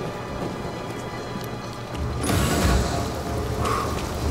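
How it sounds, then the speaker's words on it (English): Steady rain in Star Wars Jedi: Fallen Order, a dense wash of falling drops that swells louder partway through with rumbling low undertones, no voices. "Back out in the rain."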